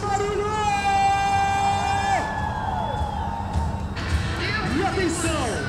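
Crowd at the start of a women's running race with 10 km and 15 km distances, cheering, whooping and shouting loudly and continuously, with clapping and babble mixed in throughout.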